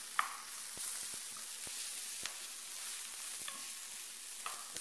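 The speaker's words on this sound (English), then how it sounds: "the onions are starting to caramelize up really nice" Onions and mushrooms sweating in a pan, a soft continuous sizzle with light, sparse taps and scrapes of a spoon, quiet and close without any talk.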